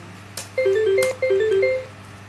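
Phone notification chimes from LINE group chat messages, several short two-tone electronic jingles overlapping in quick succession, with a couple of clicks, fairly loud and near, no speech.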